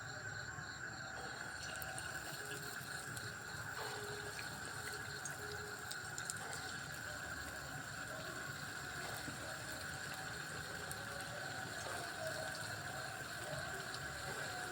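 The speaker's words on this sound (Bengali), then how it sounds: "দেখুন তেলটা গরম হয়ে গেছে, এখন আমি বড়া দিয়ে দিচ্ছি।" Fritter batter for rasmalai frying in a generous amount of hot oil, giving a steady, dense sizzle and crackle that runs continuously at moderate level with no talk.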